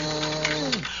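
A human voice imitates a vacuum cleaner with a brief steady whirring drone that drops in pitch and winds down at the end, close and loud.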